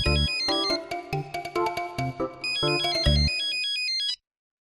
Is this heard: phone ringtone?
yes